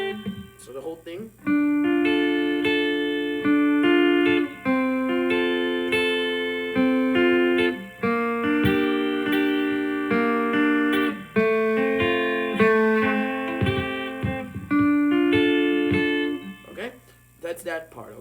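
A solo acoustic guitar plays a flowing picked pattern from a song, with steady ringing notes and brief pauses between phrases, close and clear.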